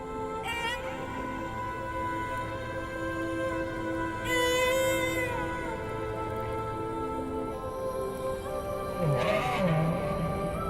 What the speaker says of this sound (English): Petit Point will memorize the song that he hears from other whales